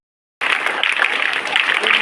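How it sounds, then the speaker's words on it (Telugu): Audience members at a Tadepalligudem artists' event break into clapping that starts abruptly and carries on as a dense, lively patter of many hands for about two seconds. "క్లాప్స్ కొట్టనమ్మా"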